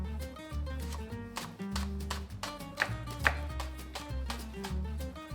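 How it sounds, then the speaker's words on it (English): A knife slices green onions on a cutting board, a rapid series of crisp, even chops heard close up beneath background music. "I'll just cut them into large slices like this"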